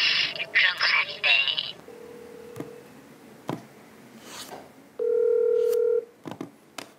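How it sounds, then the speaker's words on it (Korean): Rapid telephone keypad beeps dial a number on a Korean TV investigative broadcast, then steady electronic ringback tones sound twice between faint clicks and short gaps of near silence. "피디수첩 제작진은 성재우 검사의 답을 듣기 위해 수차례 전화를 하고 문자도 보냈지만 답은 오지 않았습니다."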